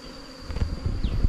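Honeybees from a large wild colony that dug its hive underground swarm and buzz close by in a dense, rising drone, with a few soft thumps beneath.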